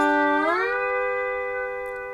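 A sustained lap steel note, played with a Duesenberg hand lever, slides smoothly upward in pitch to a slant, then holds steady and rings out, slowly fading.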